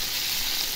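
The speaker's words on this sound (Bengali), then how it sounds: "এখন এই মাছটা আমি ভাজতেছি। দেখুন এই সেটা টুনা মাছ" Tuna fish frying in a pan, a steady close hiss of sizzling oil with no talk over it.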